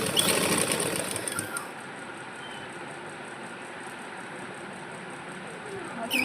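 A sewing machine runs steadily while stitching a shirt collar, a continuous close mechanical whir that stays even across the whole stretch, with a brief louder rise at the start and end.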